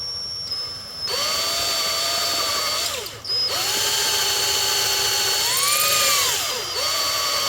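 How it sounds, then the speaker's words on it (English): A power drill whines loudly and close up, its pitch dipping as the bit bites into aluminum while drilling for a TIME-SERT thread insert, briefly stopping and restarting. "this is aluminum, and it's gonna drill real easy and like butter."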